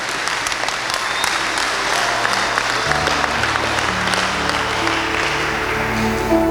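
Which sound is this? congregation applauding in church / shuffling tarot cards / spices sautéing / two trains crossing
congregation applauding in church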